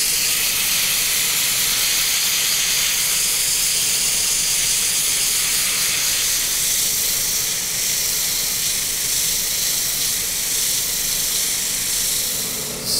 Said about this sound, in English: So I'm doing my second stage of my Yorkshire Grit microfine abrasive.